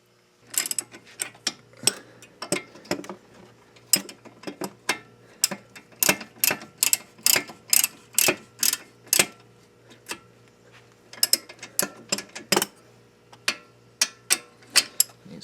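Ratchet wrench clicking as it tightens a brake bracket bolt on a 1999 Subaru Legacy Outback, close and loud, in quick bursts of sharp ratcheting clicks separated by short pauses.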